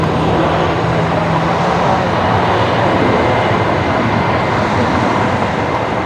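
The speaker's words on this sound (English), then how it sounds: "That's got to be that 321 Neo making that noise in front of us." An Airbus A321neo's engines at an airport, a loud, steady, broad roar that holds unbroken and close at hand, with no talking over it.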